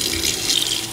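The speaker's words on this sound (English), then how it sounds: "So I'm just gonna take it under some warm water" Warm water runs steadily from a sink tap as an etched wine glass is rinsed under it, a close, even splashing hiss with no voices.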